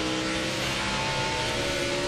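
NASCAR stock cars at the 2009 Pennsylvania 500 at Pocono pull away from pit road, a steady broad engine roar building without distinct passes, heard at moderate distance under continuous race noise.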